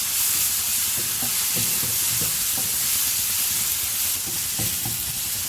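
Potato and capsicum fry with chilli and coriander powder in a hot pan, a loud continuous sizzle broken by soft, irregular knocks of stirring.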